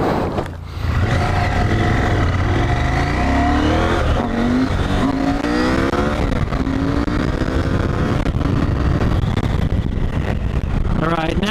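A Honda CB500X adventure motorcycle on Dunlop TrailMax Mission tires is ridden hard, its engine revving and climbing through the gears in rising, wavering tones, loud and close over heavy wind rush, with a rider's voice speaking throughout.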